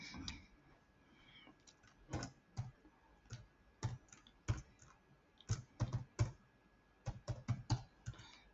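Computer keyboard keys tapped in quick irregular clusters while a password is entered, close and faint, with a low room hiss beneath the clicks.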